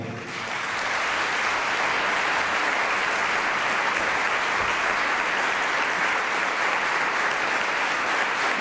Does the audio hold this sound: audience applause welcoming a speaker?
yes